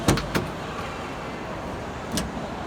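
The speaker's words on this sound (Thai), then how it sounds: "ตัวนี้เนี่ยความพิเศษก็คือฝาท้ายเนี่ยมันจะผ่อนแรง" Power-assisted tailgate on a Ford Everest shuts, giving a couple of quick thuds and clicks at the start and another latch-like knock near the end over a quiet hum, fairly faint with no talk.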